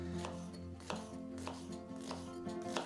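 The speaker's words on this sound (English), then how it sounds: "So we're going to chop some onions like so." A knife chops onions on a board with regular, soft taps roughly every half second, quiet and close, under a steady background hum.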